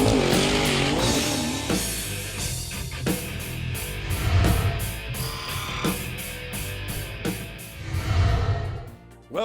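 Chevrolet race cars at Bristol Dragway in Tennessee, engines roaring loudly and continuously with tire squeal and skidding, rhythmic bursts of noise throughout, no talking.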